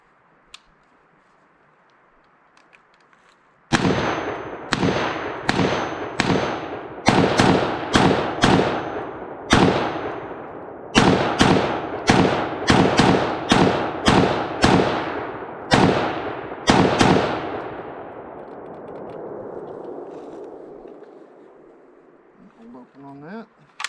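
Springfield Hellion bullpup rifle fired at an outdoor range: a rapid string of loud, close, sharp gunshots in quick clusters, each with a brief echo tail, followed by a fading mechanical rattle.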